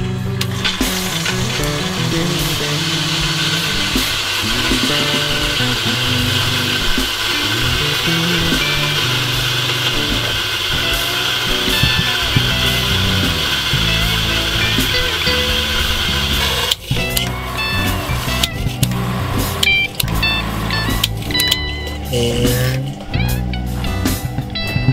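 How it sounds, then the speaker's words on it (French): Washing machine pump drawing in water from a non-mains supply: a loud, steady mechanical whir and hum lasting over fifteen seconds, then shifting to sputtering, gurgling clicks as air gets drawn in. "La pompe de la machine à laver aspire de l'eau."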